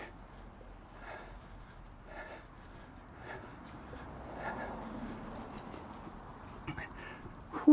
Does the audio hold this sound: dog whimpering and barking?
yes